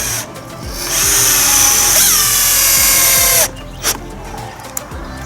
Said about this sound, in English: I'm just gonna screw the bottom on, and then I consider myself done